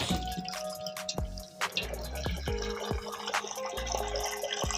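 Hot water is poured into a cooking pot of catfish and okra stew, making a close burbling, dripping fill sound with small splashes and shifting gurgles over a few seconds.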